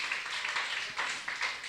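A Spanish-speaking church congregation applauds briefly. The clapping is faint and distant, a soft wash of many hands with a few sharper bursts.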